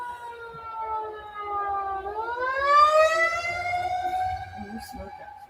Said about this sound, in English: now we got sirens